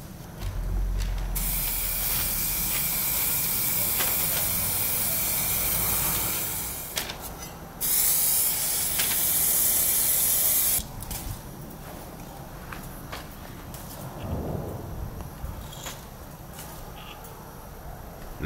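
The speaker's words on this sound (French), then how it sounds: "je passe le vernis bicomposant et je la mets de côté" Two-component clear varnish sprayed onto Suzuki GSX 600F motorcycle parts, a steady loud hiss of spray bursts with a brief pause, then a quieter room with faint handling noises.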